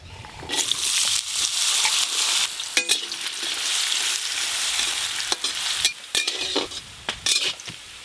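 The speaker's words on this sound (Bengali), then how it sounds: "গাজর শক্ত, তাই গাজর আগে ভেজে নেব।" Steady loud sizzling of carrots frying in hot oil, broken by scraping stirs and a few metallic clinks of a utensil against the pan.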